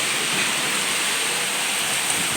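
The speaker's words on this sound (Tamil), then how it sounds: "கருமேகம் எங்கேயோ வந்து கொண்டிருந்து சூப்பராக மழை பெய்யிறது" Rain pours steadily as dark clouds sweep over a hillside temple, a dense, unbroken hiss that fills the whole space, loud and uniform with no voices.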